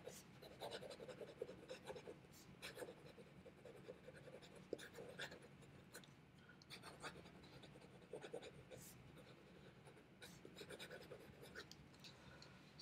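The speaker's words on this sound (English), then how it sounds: "Let's do fast writing." Kaweco Sport fountain pen with a Bock nib writing fast on paper: close, quiet scratchy strokes in quick irregular bursts, with brief pauses between words and no talking.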